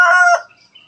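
A loud, close rooster crow on a chicken farm, a single strident call that cuts off abruptly and is followed by faint trailing bird sounds.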